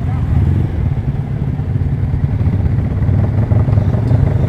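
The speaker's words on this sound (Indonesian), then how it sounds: "Jupiternya Mas Faijo banter ternyata" A Yamaha Jupiter Z motorcycle bored out to 180cc being ridden, its engine giving a steady, close, low droning rumble with slight rises in revs, continuous throughout with no clear words.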